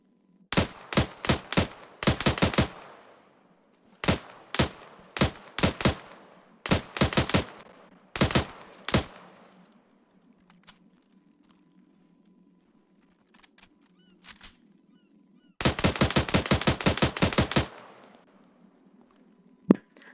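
In-game FN-FAL rifle in Arma 3 firing 7.62mm rounds, first as sharp single shots and short spaced bursts, then after a quiet stretch with faint handling, a rapid continuous volley, loud and close.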